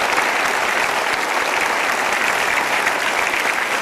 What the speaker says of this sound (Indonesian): Juga tepuk tangan untuk tim Uncover Papua.